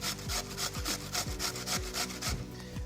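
An onion is grated by hand in a kitchen, giving rhythmic rasping strokes repeated about every quarter second, close up with no talking.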